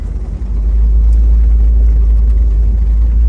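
A 1957 Chevrolet Bel Air convertible with a 350 V8 cruising with the top down, a steady close engine drone and heavy low rumble throughout, the load rising slightly at the start, no voices.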